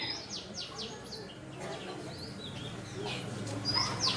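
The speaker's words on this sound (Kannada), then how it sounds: "ಅದು ಪಕ್ಷಿ ಇದೆ" Small birds chirping outdoors, with several quick, bright tweets scattered across the clip over a soft, steady background murmur.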